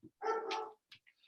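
A dog barks once, loud and close by, in an indoor home setting, followed by a couple of short faint yips; no one speaks.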